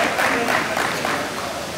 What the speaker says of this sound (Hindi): आप अंजुम सलीमी साहब के लिए भरपूर तालियां बजाएं